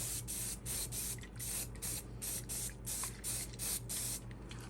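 Hairspray misted onto model trees made from dried sedum for a slot car layout, a close series of about ten short, even hissing spray bursts in a steady rhythm, with no talking.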